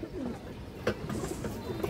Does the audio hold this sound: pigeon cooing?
yes